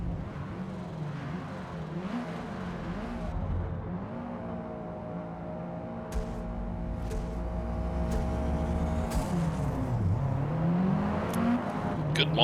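Race car launching at the race start in Forza Motorsport, engine revving and climbing through rising pitch sweeps with gear shifts, loud and close, with other cars whirring nearby.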